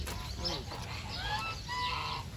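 Geese and other farmyard fowl at Philip's Animal Garden in Aruba, clucking and honking calls scattered through steady outdoor background noise, moderately near.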